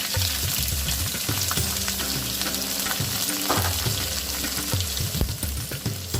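Onions and baby plum tomatoes fry in a pan with a dense, continuous close sizzle, broken by irregular scraping and stirring knocks and some watery bubbling.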